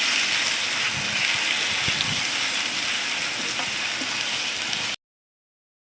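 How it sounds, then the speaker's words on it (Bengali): Minced meat for momo filling fries in a pan with a steady, dense hiss for about five seconds, then cuts to silence. "মাংস কুচিগুলোকে এখন ভেজে নিব মোমোর জন্য।"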